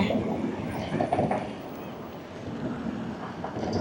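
A tram passing along a street in Milan, a steady broad rumble with wheel and track noise building slightly around the middle, mixed with city background and some wind buffeting on the microphone.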